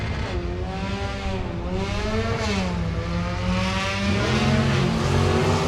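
Two drag cars, a 1967 Camaro and a four-cylinder manual Pinto, launch down the strip at the Gainesville drag races, engines revving loudly and climbing through the gears, rising harmonic roar held steady throughout.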